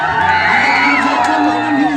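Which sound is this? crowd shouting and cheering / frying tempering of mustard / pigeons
crowd shouting and cheering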